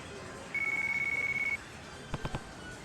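A mobile phone rings in the Yakuza video game, a steady electronic tone held for about a second, followed by a few short chirping pulses, moderately loud over a quiet background.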